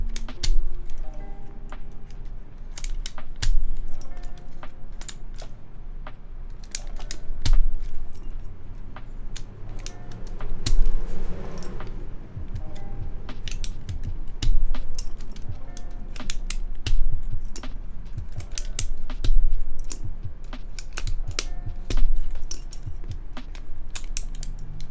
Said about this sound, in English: I'm gonna take off the keycaps